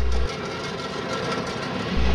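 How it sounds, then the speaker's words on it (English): Union Pacific bare table train of paired 89-foot flatcars heading east, a steady rumbling roll with faint rhythmic clatter, heavier low thumps at the start and end. "This bare table train passes through headed east on the Union Pacific."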